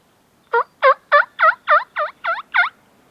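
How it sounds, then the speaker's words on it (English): A hunter's turkey call gives a close, loud yelp series of eight evenly spaced raspy notes during a spring hunt in South Texas, then falls silent. "I'm gonna give him a little yelp, see if I get a call back."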